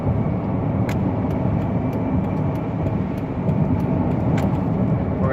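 A 2005 Dodge Caravan SE wheelchair mobility van cruises on a highway at about 62 mph, with a steady, loud cabin drone of road and engine noise throughout and no voices.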